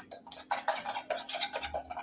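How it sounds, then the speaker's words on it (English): A whisk mixing dry ingredients in a bowl, a rapid series of close, crisp scraping and ticking strokes in an uneven rhythm, with no one talking. "I like mixing with the whisk, especially dry ingredients"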